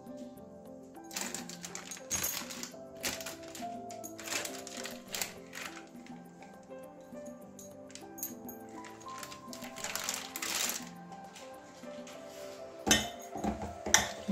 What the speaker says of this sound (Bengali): বেসনগুলো ভালো করে ফেটিয়ে নিতে হবে হাত দিয়ে